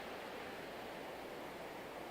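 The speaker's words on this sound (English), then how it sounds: "can you still hear me over the sound of the water?" Steady broadband wash of beach ocean water in a meditation recording, a continuous even surf-like roar with no distinct wave breaks, moderately faint and without talk.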